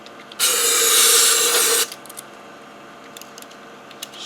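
A spray can hisses a single loud, steady burst for about a second and a half through a straw into the blower motor of an Audi Q5, then cuts off, leaving a few faint clicks and handling noises.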